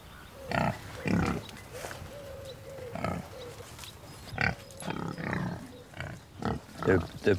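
Pig grunts from a farm pig, several short grunting bursts scattered through the stretch with people talking nearby, moderately close and at conversational loudness.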